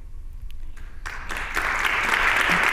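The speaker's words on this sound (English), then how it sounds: "A big round of applause for our presenter." Applause from an audience after a talk on space and equality, starting with a few scattered claps and swelling into full, steady clapping for the presenter.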